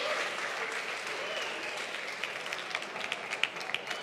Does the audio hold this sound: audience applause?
yes